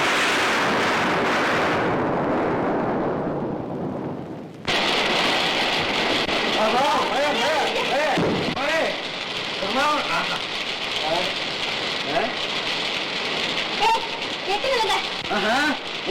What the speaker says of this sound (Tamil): மழையே வந்துடும் போல இருக்கே.